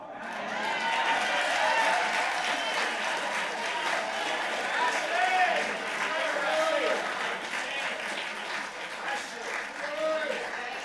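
Audience applause at the 2008 Unsung Hero Awards at the San Francisco Public Library, sustained clapping from a sizeable indoor crowd with scattered voices and cheers mixed in, steady throughout.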